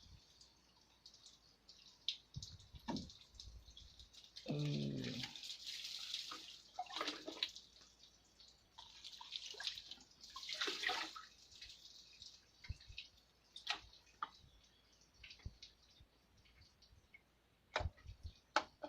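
Water poured into a container while making photosynthetic bacteria culture, with scattered drips, trickles and splashes at close range, some brief louder pours, and no talking.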